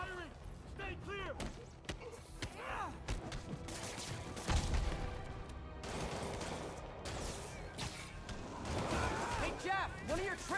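Cannon fire in a Spider-Man video game, a rapid series of booming shots and impacts mixed with crashes and thuds, loud and dense, with game voices shouting over the barrage.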